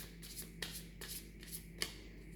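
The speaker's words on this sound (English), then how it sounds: "So first I'm clearing the cards" Tarot cards being shuffled by hand, soft papery riffles and slides in a few short bursts, quiet and close with no talking.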